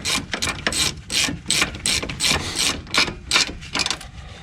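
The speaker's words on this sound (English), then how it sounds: "Take your ratchet, start ratcheting in the screws." A ratchet tightens the brake caliper screws on a Hyundai Tucson during a rear brake pad job, giving a rapid run of sharp, loud metallic clicks in quick bursts close by, with no voices.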